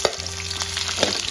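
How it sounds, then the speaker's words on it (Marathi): Curry leaves sizzling in hot oil in a deep iron tawa, a close, steady crackling fry with a few sharper pops and no voices. "त्याच्यावर तेल घेतलं आहे आणि तापलेल्या तेलामध्ये कढीपत्ता"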